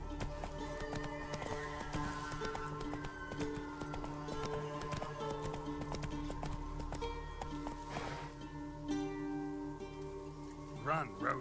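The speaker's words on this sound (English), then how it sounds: "Run, Roach" Galloping horse hooves clip-clop rhythmically in The Witcher 3, partly buried under steady game music and ambience, with a few brighter sounds near the end.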